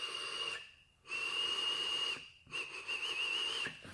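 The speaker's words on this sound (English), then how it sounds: "It whistles when you close the airflow off a little bit." A thin, high-pitched whistle rises with each drawn breath through a vape tank with its airflow partly closed, three pulls separated by short silences, close and clear.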